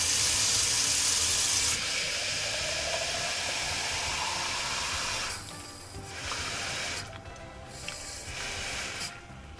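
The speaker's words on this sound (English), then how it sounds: "Now we just fill it up with water." Tap water runs into a container for a blue hot dog mixture, a broad hissing splash that shifts and breaks up partway as the flow is adjusted, close and alone.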